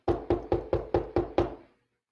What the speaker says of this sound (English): I knock again